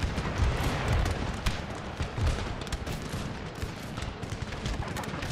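Cannon fire in the video game Empire: Total War, a dense rumbling barrage of booms and crackling musket-like shots layered together in a continuous loud battle din.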